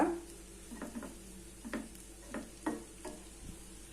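A spoon stirs previously fried onions into cooked rice in a pan for a quick Indian onion rice, with soft scraping strokes repeating every half second or so under a faint sizzle, fairly quiet and close.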